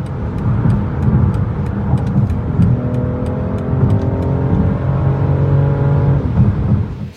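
A heavy, almost two-ton car cruises fast on a California road, its engine and tyre roar a steady, loud drone with rising revving tones.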